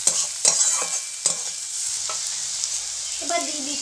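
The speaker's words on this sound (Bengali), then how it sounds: "এবার দিয়ে দিচ্ছি পেঁয়াজ কুচি।" Chopped onions hit hot oil for a Bengali parwal and egg curry, sizzling softly while a utensil scrapes and stirs in several sharp strokes, close by and with no talking.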